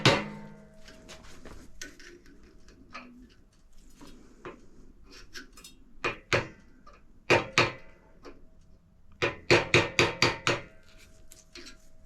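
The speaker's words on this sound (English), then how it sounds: "We take a sharp screwdriver just to get in here, because it's now press fit and doesn't want to go out that easy" A sharp screwdriver pries at a press-fit brake line fitting, giving scattered sharp metallic clicks and knocks, then a quick cluster of louder taps near the end, with no talking.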